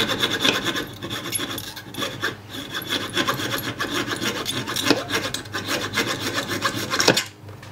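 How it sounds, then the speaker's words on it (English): Hand file rasping metal smooth on an upgrade patch, a steady close scraping with repeated back-and-forth strokes, alone without talk. "grind it out with the file, smooth it out."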